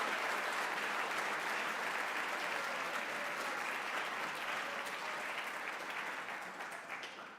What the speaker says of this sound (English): Can we give one final round of applause to all of today's winners?